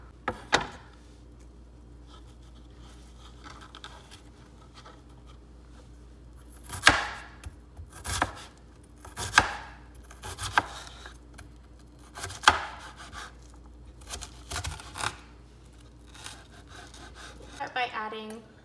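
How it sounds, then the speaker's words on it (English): A knife dices an onion on a cutting board in scattered sharp chops and taps, irregular and close, with quiet stretches between bursts. "We're going to start just by dicing an onion."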